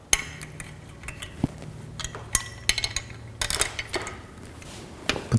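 Small metallic clicks and clinks as a bolt is removed from the front fender mount of a Royce Union RMX commuter bike, with scattered light taps and rattles, close and fairly quiet, and no talking.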